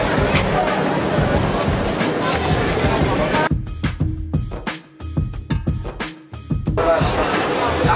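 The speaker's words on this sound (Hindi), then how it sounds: "स्टेशन पे काफ़ी ज़्यादा भीड़ है और लोग ट्रेन को देखने के लिए एकदम उत्साहित हैं" A large, excited crowd packs a railway platform waiting for the Vande Bharat Express, a dense babble of voices and movement that breaks into chopped, uneven bursts midway before the loud din returns.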